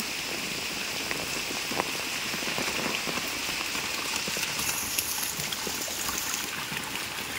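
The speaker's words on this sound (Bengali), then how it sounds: "আমরা এই দেখো এই বৃষ্টির জল ধরছি" Heavy rain pours steadily onto surfaces outdoors while rainwater is collected to fill a tank, a dense continuous patter and splashing close by, with no voices.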